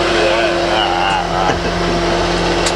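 A tractor engine drones steadily and close during a ride, a constant low hum with a faint whine, with occasional voices over it.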